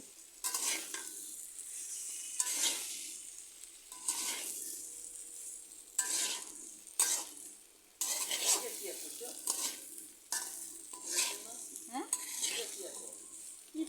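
Crab cooked with taro stolons and ground spice paste being stirred in a pan, repeated bursts of scraping and sizzling at close range with short pauses between strokes.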